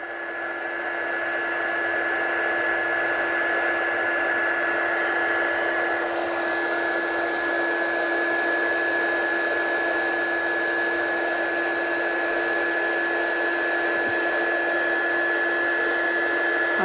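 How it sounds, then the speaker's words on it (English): Heat gun blowing hot while heat embossing a Christmas card, a steady loud whirring drone with a constant whine, running without pause the whole time. "So I'll get this one heat set. Get your gun really hot."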